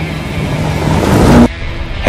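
A Lamborghini Urus SUV drives off-road on a gravel track, its engine a steady loud rumble with broadband road roar that cuts off abruptly partway, then returns faintly near the end.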